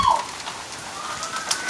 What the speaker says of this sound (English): It's like a normal rain though.